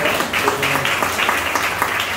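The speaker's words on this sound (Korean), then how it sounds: "우리 감사 환영의 박수로" A church congregation at a Sunday worship service claps in welcome, a steady, moderately loud patter of many hands that continues throughout without pause.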